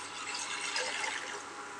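Water poured steadily into a kadai (wok) while preparing rice powder, a close, continuous splashing rush that holds at an even level for about two seconds with no voices.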